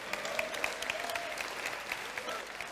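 An audience applauding at a Blender keynote, steady dense clapping with scattered cheers, heard at moderate distance in a hall.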